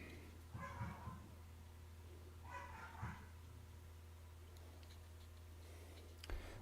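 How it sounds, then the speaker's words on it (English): A dog barks faintly in the distance in two short bursts over a quiet, humming background. "Dog's going nuts."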